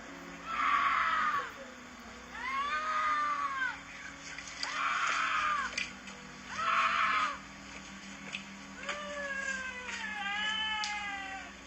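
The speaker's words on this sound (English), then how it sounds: "seemingly screaming in abject terror for help" Played back from a scary video, a woman screams in long, wavering, rising and falling cries, repeated about six times over steady background hum, each wail loud and drawn out like pleading for help.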